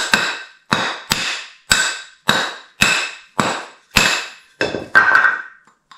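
A hammer strikes a smelting furnace part about ten times in a steady rhythm, each ringing metallic blow loud and close and decaying slowly, as the part is knocked loose.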